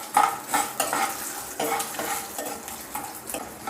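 Three large dried red chillies roast in a pan for carrot chutney, with a spatula stirring in quick repeated strokes over a light frying crackle, close and fairly quiet.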